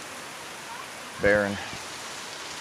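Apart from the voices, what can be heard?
rain from Hurricane Dorian's outer bands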